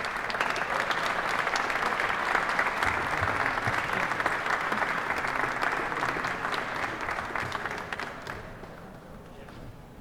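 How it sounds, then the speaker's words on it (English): An audience applauds an award recipient at an opening ceremony, steady dense clapping from a crowd for about eight seconds before fading toward the end. "A round of applause for Josh."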